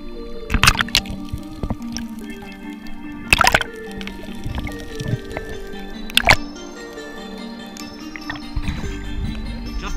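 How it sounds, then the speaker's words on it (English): Water splashes and sloshes as a spearfisher jumps into the Hawaiian ocean, with several sharp bursts of close churning spread among gentle lapping and dripping. "Dude, I just jumped in the water."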